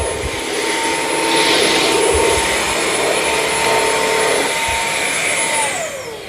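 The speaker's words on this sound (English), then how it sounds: "Yeah, this is a nice little vacuum." A Bissell CrossWave OmniForce 3882 cordless wet-dry vacuum runs close by with a loud, steady motor whine and airy rush, then its pitch drops as it winds down at the end.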